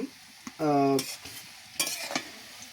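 Onions sizzle steadily in a hot pan, broken by a few loud scraping stirs of a utensil against the metal.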